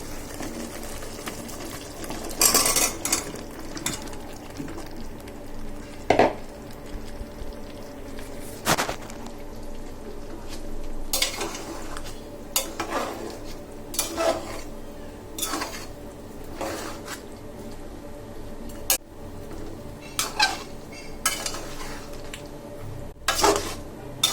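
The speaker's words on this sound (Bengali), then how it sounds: "এখন মূল আর বেগুনগুলো মিক্স করে দিব" Radish and eggplant pieces being stirred into frying spices in a pan, with irregular metallic clinks and scrapes of a spoon against the pan over a low continuous sizzle, close and fairly busy throughout.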